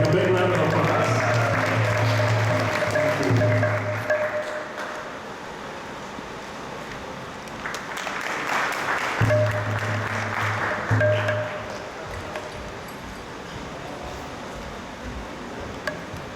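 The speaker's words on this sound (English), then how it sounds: "giving a big round of applause" An audience at an ISKCON Toronto lecture for Lord Balaram's appearance day applauds to welcome the speaker, a broad clatter of clapping that swells and fades, with low sustained tones running beneath it.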